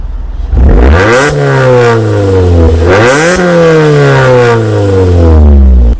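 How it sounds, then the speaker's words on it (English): A 2014 Suzuki Swift Sport fitted with a Remus exhaust revs hard and loud, its engine note rising in repeated sweeps and falling back between blips, close to the microphone with no talking. "I'll show you what it sounds like now, and you'll be surprised that this noise is coming from a Suzuki Swift Sport."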